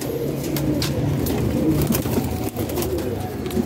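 Qasoori pigeons in a loft cooing, a steady chorus of low throaty coos and soft burbles repeating close by with no talk over them.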